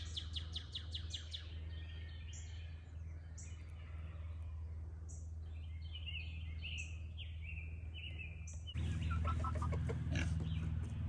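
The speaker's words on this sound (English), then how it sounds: "Chickens are cool, man." Farm chicken flock clucking and chirping in repeated short calls at moderate distance over a steady low hum, with a louder burst of clucking near the end.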